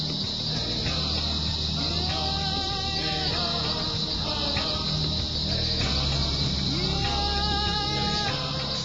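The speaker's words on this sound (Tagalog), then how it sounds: "rinig na rinig mo ang uni ng mga kuliglig" Crickets at a wildlife farm in Botolan chirp in a steady, shrill, continuous drone throughout, while voices talk intermittently beneath it.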